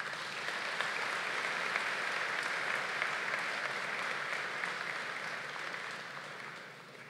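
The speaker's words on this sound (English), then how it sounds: "we should give her a round of applause" Sustained applause from the audience at a university medical sciences graduation ceremony, a steady, dense roar of many hands clapping that holds evenly for several seconds before tapering slightly at the end.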